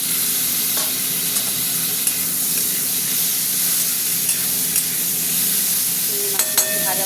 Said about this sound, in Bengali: চিংড়ি মাছগুলো ভাজা ভাজা হবে।